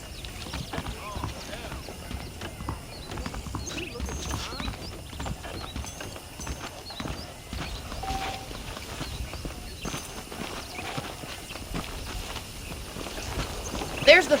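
Horse hooves clip-clopping at a steady walking gait in the Red Dead Redemption video game, a continuous rhythmic patter of moderate loudness beneath talking voices and ambient game sound.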